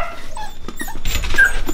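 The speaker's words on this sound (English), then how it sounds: "You whiny puppies." Six-and-a-half-week-old Aussiedoodle puppies whimper and yip in thin, high cries close by, growing busier and louder toward the end.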